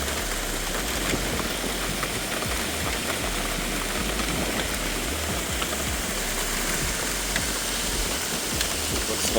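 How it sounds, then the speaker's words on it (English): Hail falling outdoors during a storm with a tornado warning, a dense, steady patter and hiss of small hailstones pelting the ground and surfaces throughout, with a low rumble underneath. "Oh, hail."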